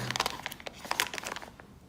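A LEGO polybag crinkles and crackles softly at close range as it is torn open, in a quick flurry of small plastic rustles and snaps.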